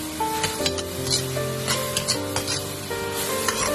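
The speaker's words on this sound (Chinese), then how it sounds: "接下来把青红椒放入锅中，再快速的翻炒，将青红椒炒至断生。" Chicken with green and red peppers tossed quickly in a hot wok gives a steady sizzle with repeated stirring and scraping strokes, close and fairly loud over a background of melodic music.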